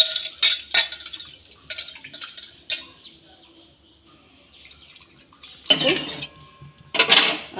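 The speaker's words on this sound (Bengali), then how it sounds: "এই মসুর ডালটা প্রথমে আমি দুবার করে ধুয়ে নেব।" Red lentils are rinsed in a metal pot, with clinking and scraping of the vessel, short bursts of sloshing and pouring water, and quieter pauses in between, with outdoor insects faintly audible.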